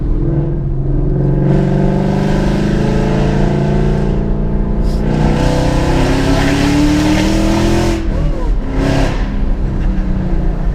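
A loud modified 2015 Ford Mustang GT engine revs hard at three-quarter throttle and climbs in pitch under sustained acceleration, with a deep, throaty exhaust roar that runs continuously throughout.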